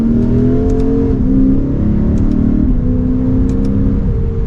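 A 2023 Lexus IS 500 F Sport in Sport S+ mode accelerates hard, its engine note climbing steadily and dropping briefly at two or three rapid gear shifts, loud and continuous throughout.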